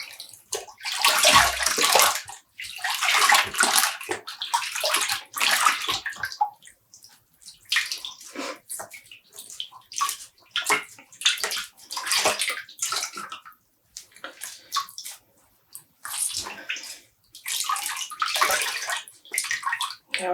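Dyed yarn squeezed by hand in a bowl of rinse water, giving repeated bursts of splashing, dripping and trickling water close by, with short quiet pauses between squeezes.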